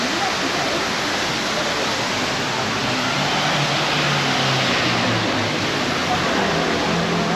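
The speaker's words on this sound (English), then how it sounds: "it brings us out to Plata de la Reina with more fountains" Water splashes from public fountains in a city square in Palma on a December evening, a steady broad wash of spray holding at an even level throughout with no pauses.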